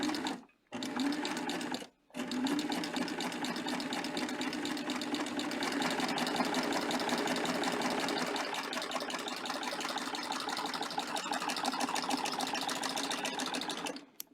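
A serger sewing machine runs in steady, fast, close-up bursts while stitching gathers into fabric, with two short pauses near the start and then continuous whirring mechanical stitching to the end.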